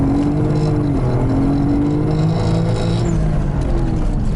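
A drift car on a frozen lake, its engine droning loudly and steadily with rising and falling pitch as it accelerates, close and constant with no talk.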